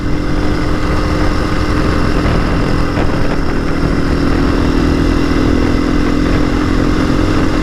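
Honda CRF 450 SM supermoto engine accelerating on the road, a loud, close, continuous roar with steady rumbling throughout, no talking.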